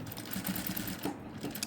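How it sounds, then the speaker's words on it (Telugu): A sewing machine stitches a cutwork blouse, its needle running in quick, steady rhythmic bursts nearby at modest volume, with no speech over it. "ఈ విధంగా స్టిచ్ చేసుకోవాలండి"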